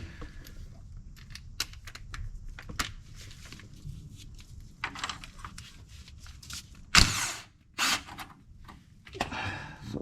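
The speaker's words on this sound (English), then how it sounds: "I'm going to use my impact and make this a little faster" An impact wrench removes 10 mm bolts from a twin turbo 5.7 engine during a teardown: short, close rattling bursts stand out against light mechanical clicks and handling noise.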